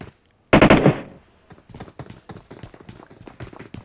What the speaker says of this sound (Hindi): फायरिंग का स्वाउंड आ रहा था